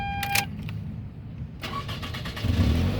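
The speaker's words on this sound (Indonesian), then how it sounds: "nah coba kita start mobilnya ya" A 2004 Toyota Camry 2.4 G automatic with about 107,000 km is started: a brief higher tone comes first, then the starter cranks and the engine catches and settles into a steady idle, loud and close.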